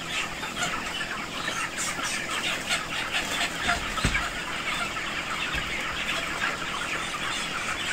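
A crowd of broiler chickens clucking and chirping continuously, a dense busy chorus filling a poultry shed, with a couple of low thumps partway through.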